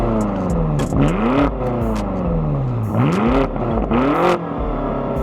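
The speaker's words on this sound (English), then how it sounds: "it's the Eisman exhaust that brings the car to life with its volume and tone" A BMW M5 engine fitted with an Eisenmann exhaust revs hard several times, each rising and falling sweep loud and close, with a deep throaty tone and no talking.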